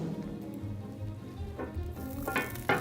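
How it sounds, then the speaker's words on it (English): Vegetable slices with a little butter sizzling in a warm pan, a steady close frying crackle with brief louder spits toward the end, no talking. "Ooh, can you hear that sizzling?"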